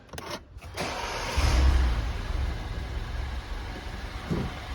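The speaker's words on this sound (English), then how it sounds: "I'm just going to start the car." A Mini with an oil leak at the turbo feed cranks briefly and catches. The engine then settles into a somewhat rough, steady running hum, heard up close.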